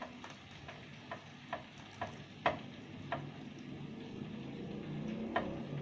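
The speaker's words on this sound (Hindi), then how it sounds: "प्याज को अच्छा सा थोड़ा सा लाइटली ब्राउन कर लेंगे।" Sliced onion fries in a pan while being stirred for light browning, a soft steady sizzle punctuated by roughly a dozen sharp ticks of a spoon against the pan, close and fairly quiet with no talking.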